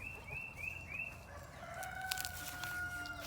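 A backyard garden chicken calls in a rapid rising series of clucks, followed by a sustained crow-like call, close and fairly loud with no talk.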